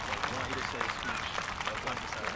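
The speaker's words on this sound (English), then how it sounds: "Let's give him a big welcome, big round of applause." An audience at a school Olympic Day opening ceremony claps continuously, a dense, even wash of applause filling the moment without pause.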